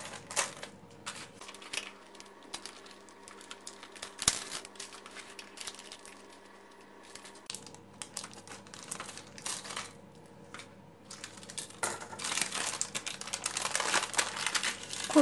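Plum fruit leather peeled away from baking paper gives soft crinkling and light papery crackles, close and quiet, growing busier and louder toward the end, with no talk.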